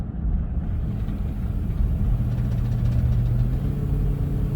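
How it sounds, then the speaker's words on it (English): Ford Super Duty truck with a restricted, leaking exhaust and no power, its engine running in a steady, deep idling rumble close by with a faint whine above it. "I can hear it definitely, that there's a huge restriction in that exhaust"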